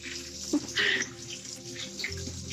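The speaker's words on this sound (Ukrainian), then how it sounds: "Мастер-клас по зливу води з бойлера." Water drains from a home water heater tank, a close, faint running trickle with a few gurgles and splashes.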